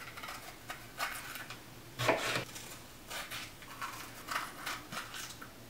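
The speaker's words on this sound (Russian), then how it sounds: "Нарезаем на такие дольки, чтобы не сильно мелко." Bell peppers being sliced into wedges with a knife, a series of soft, irregular cutting and rustling strokes, fairly close, with one firmer cut near the middle.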